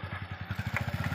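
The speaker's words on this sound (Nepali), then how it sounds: "बाइक राख्दै हुनुहुन्छ" A motorcycle is parked on a hill road in Dolakha, its engine running briefly with a quick, even low putter at close range.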